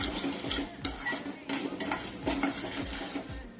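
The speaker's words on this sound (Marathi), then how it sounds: "मधून हलवत राहूया नाहीतर ग्रेव्ही आपली कढईला चिटकून बसायची" A spoon scrapes and stirs repeatedly around a metal wok in quick uneven strokes, stirring egg biryani masala gravy releasing oil, over a low sizzle of cooking.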